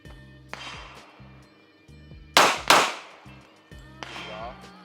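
Two sharp, loud pistol shots crack close together at a shooting range, separated by quieter stretches with a low mechanical hum and voices talking.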